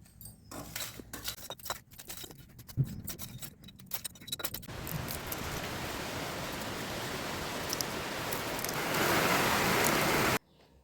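Steady rain hisses as a dense broadband wash, following a few seconds of scattered clatter and thumps, then swells louder near the end before stopping abruptly.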